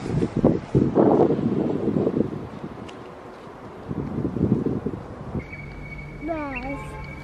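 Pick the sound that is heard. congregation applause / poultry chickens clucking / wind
wind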